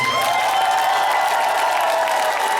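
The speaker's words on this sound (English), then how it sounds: "A round of applause." Audience at a live concert in Moscow clapping and cheering, a dense crowd roar with a sustained tonal ring from the sound system over it, loud and continuous for a few seconds.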